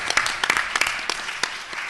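Audience at opening remarks claps together after being asked to show hands for helping at UC Santa Barbara, a dense, steady patter of many hands lasting throughout, moderately loud with scattered sharper claps.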